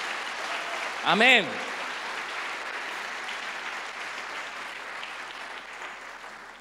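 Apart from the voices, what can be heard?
applause for the Lord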